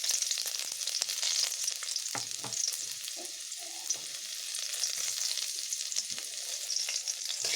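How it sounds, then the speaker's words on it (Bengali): Green chilies and garlic dropped into hot oil sizzle and crackle steadily, with scraping and clicking of a spatula stirring in the pan, close and without voices. "তেল গরম হয়ে গেছে, আমি লঙ্কা ও রসুনগুলোকে দিয়ে নিচ্ছি।"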